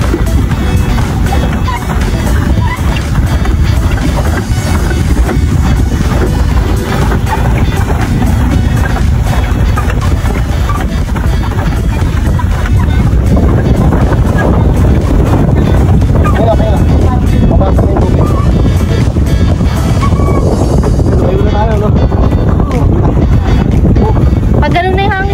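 Strong wind blowing at Natipuan beach, buffeting the microphone with a constant loud roar, with faint voices and surf mixed in.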